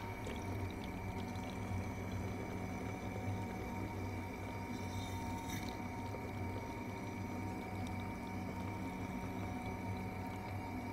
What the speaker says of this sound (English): we're gonna put some water in right now